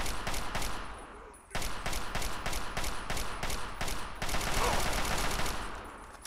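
Rapid gunfire in the video game Fallout 3, with dense, closely spaced shots cracking in steady bursts. A brief pause comes early on, then the volley resumes and stays loud through to the end.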